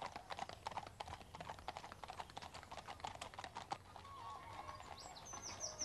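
Horse hooves clip-clopping steadily on a path through woodland, a close, regular rhythm of sharp clacks with faint birdsong in the background.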